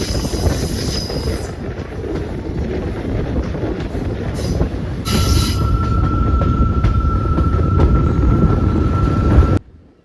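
A train rolls around a big right-hand curve on a scenic route, its wheels squealing and rumbling loudly and continuously with a steady high whine before the sound cuts off abruptly.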